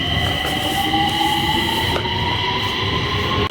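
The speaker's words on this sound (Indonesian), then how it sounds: "Keretanya udah datang teman-teman, aku siap-siap buat naik kereta dulu ya" A train pulls into a station in China, with a steady mechanical rumble and faint rail hum, sustained and fairly loud throughout with no talking.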